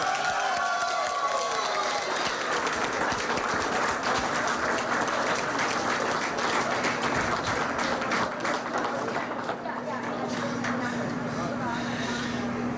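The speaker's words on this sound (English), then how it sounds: "A round of applause and a celebration for you tonight." Supporters of Lt. Gov. Josh Green applaud and cheer on Hawaii Democratic primary night, loud sustained clapping and crowd noise that thins slightly near the end, with a steady hum beneath.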